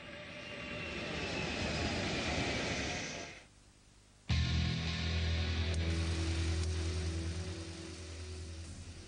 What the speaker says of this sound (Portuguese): do rebento da Guerra Fria de Kelly Johnson, o avião espião U-2.